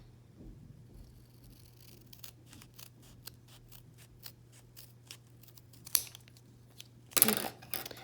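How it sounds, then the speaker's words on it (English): Scissors snip through a sheet of origami paper to remove its top triangle, a quiet series of short close cuts that builds to a louder, sharper crunch near the end. "we're gonna do is cut this top triangle off"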